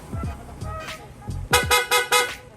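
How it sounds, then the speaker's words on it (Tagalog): A voice speaks briefly, then a loud aftermarket horn on a Sniper 155 motorcycle gives four quick honks in close succession. "Yung busina na sir, lalakas na."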